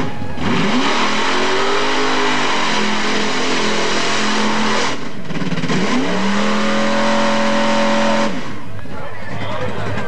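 Truck engine revving hard at a 1997 mud run race, a loud sustained roar with rising and falling pitch sweeps, briefly dipping near the middle before surging again, with crowd and announcer noise underneath.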